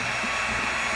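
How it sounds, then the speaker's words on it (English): A heat gun blows hot air onto EVA foam, a steady close whooshing fan roar without breaks across one brief second. "now let's get the heat gun out"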